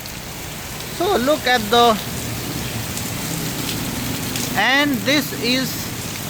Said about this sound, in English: It's raining so heavily each and every day.